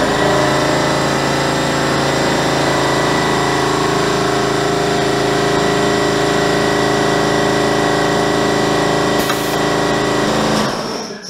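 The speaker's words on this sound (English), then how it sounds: "so I don't have to pause like that when the compressor starts" An air compressor runs loud and close with a steady, unbroken mechanical drone for the whole span, ending abruptly.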